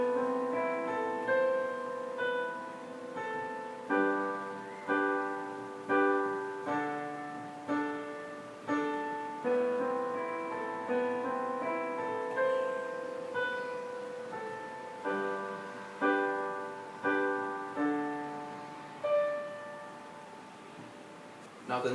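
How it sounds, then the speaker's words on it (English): Piano playing the pre-chorus of a song slowly, with sustained chords and single notes struck at an even, unhurried pace, each one decaying before the next, heard clearly and alone. "So again, the whole pre-chorus should sound like this. I'm going to play it slowly."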